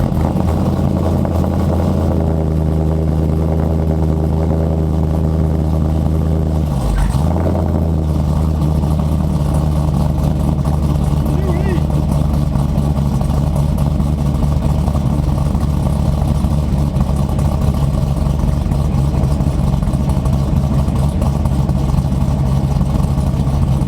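A Corvette LS V8 engine firing on a cold start, then settling into a loud, steady, rumbling idle that continues close by without a break.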